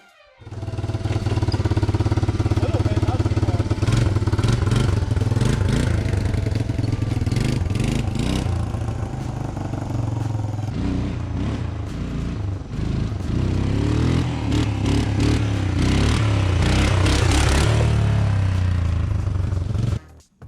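A 1987 Honda TRX 250 ATV engine, freshly fitted with front brakes and carburetor work, revs repeatedly to full throttle and drops back, a loud, close, rasping buzz rising and falling over about twenty seconds.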